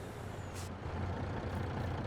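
Truck air brake in the Farming Simulator 22 video game, a steady hissing rumble with a brief sharp burst of released air partway through, fairly loud over a low engine drone.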